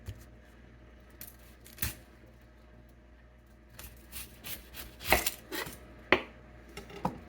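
A knife making a flat cut across the top of a Vidalia onion on a cutting board, scattered crisp slicing and knocking sounds, close, with a few sharper hits near the end.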